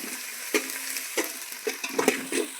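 Onion with crushed ginger and garlic frying in a pan until golden, a steady sizzle broken by several sharp stirring scrapes and pops, close and moderately loud with no voices.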